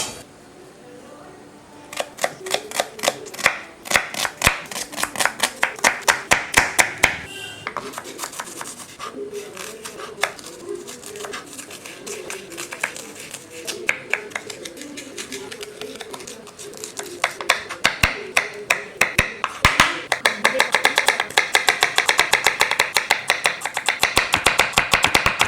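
A knife chops vegetables for kachumber salad on a board, firing rapid bursts of crisp close taps with short pauses between runs, while a voice speaks quietly underneath.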